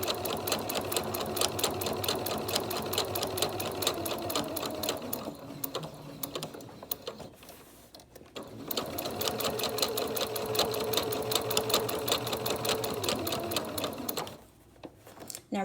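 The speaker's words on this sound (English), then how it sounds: "All right, now we're going to top stitch the mask." A Singer sewing machine top stitches a fabric face mask with a fast, close mechanical rattle, pausing briefly midway before a second long run and a final stop.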